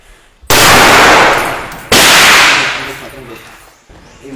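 Two sharp, very loud rifle shots fired by soldiers in urban combat during the battle of Marawi, each blast ringing out and decaying over about a second, with the second following roughly 1.5 seconds after the first.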